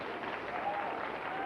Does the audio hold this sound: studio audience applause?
yes